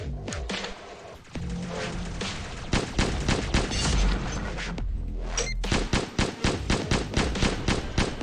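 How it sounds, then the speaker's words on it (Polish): Rapid gunfire from a weak, wide-spread weapon in the Pixel Gun 3D shooter game, with bursts of loud shots, a brief pause, then a fast steady string of evenly spaced blasts. "Patrzcie, jak ona też słabo strzela."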